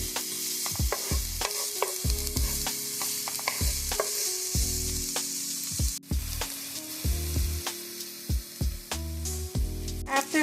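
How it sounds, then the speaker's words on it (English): Chopped onion sautéing in a hot skillet, a continuous bright sizzle under repeated clicks and scrapes of a utensil stirring, close up with no voices. "Next, I'm going to add in my onion. You want to saute your onion for 2 to 3 minutes."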